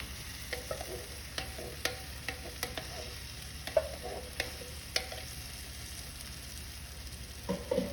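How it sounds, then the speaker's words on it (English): A spoon breaking up canned tomatoes in a hot pan for shakshuka, with scattered light scrapes and taps over a steady soft sizzle, close and quiet throughout, no voices. "So I'm just going to break up my tomatoes with my spoon here."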